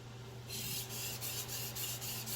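Victorinox 8-inch chef knife stroked across a Chosera whetstone, a series of quick rhythmic rasping passes close up over a faint steady hum, no voices.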